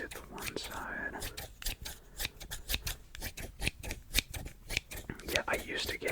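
Scissors snip and trim fursuit fur in a steady run of crisp close cuts, with soft whispered talk over them.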